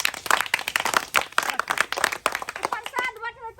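A small group of people claps together at a toilet inauguration, producing a dense burst of close, quick handclaps that fades out at the end.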